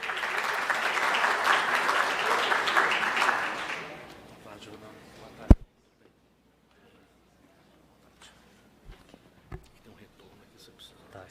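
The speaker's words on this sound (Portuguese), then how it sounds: "Recebam, por gentileza, com uma salva de palmas." An audience at an annual investor meeting claps to welcome a presenter, the applause fairly loud for about four seconds before fading. A sharp knock follows, then near silence with small scattered noises.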